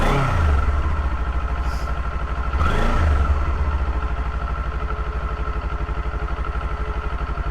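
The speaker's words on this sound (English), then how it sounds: "When you give it a little gas, you can hear that. The kind of high-pitched whine." A stock-exhaust 2022 Kawasaki Z400 motorcycle engine idles, then revs briefly twice, with a thin high-pitched whine riding above the rumble.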